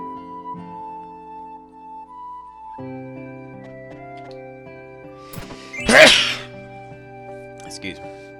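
A single sharp, loud sneeze bursts out near the middle, standing clear of a steady bed of video game music during a Final Fantasy IX playthrough stream.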